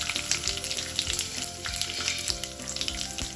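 Cashew nuts frying in oil in a pan, with a continuous close sizzle broken by small regular clicks and taps, fairly quiet.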